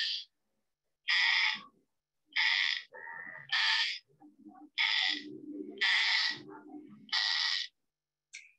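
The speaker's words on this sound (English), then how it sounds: "And that is a snail kite." A recorded snail kite call played back in Florida: a series of about eight harsh, rasping chattering calls in an uneven rhythm, with lower croaking notes between them, clear and fairly close with no talk.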